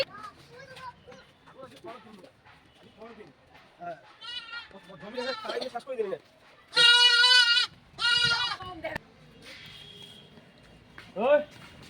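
Goats bleat loudly in repeated wavering calls, close by, mixed in with people talking outdoors, after a goat ate crops in a field.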